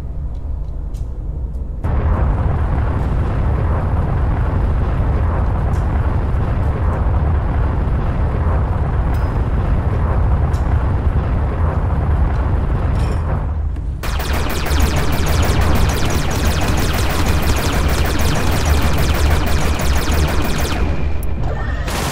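Laser fire striking a mineable asteroid in the space game Everspace to extract fuel, a loud sustained crackling roar that runs continuously, breaks off briefly, then resumes brighter and harsher until the end.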